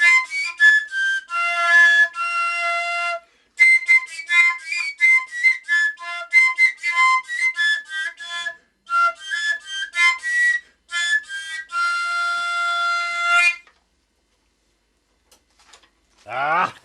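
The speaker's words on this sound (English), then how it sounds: "No, to je píska." An instrument maker plays a handmade whistle in bright, piercing tones, repeating short trills and held notes in quick phrases with brief gaps, ending in silence and then a faint voice.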